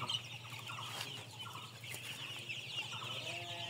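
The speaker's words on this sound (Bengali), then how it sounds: "এগুলো কি মুরগি মুরাদ? লেয়ার মুরগি। এটা হাইলাইন বলো না" Hy-Line layer hens cluck steadily and overlapping throughout a busy poultry farm shed, with constant background flock noise and no voices.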